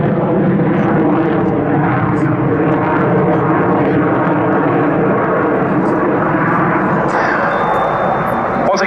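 An F-16 fighter jet flying a display at an airshow, a loud, steady engine roar filling the whole stretch, with faint crowd or announcer sounds mixed beneath.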